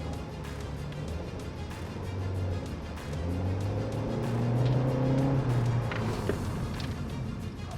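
A used car accelerates on a test drive, its engine note rising and shifting through several tonal steps with road and tire noise beneath, heard from inside at moderate level without speech.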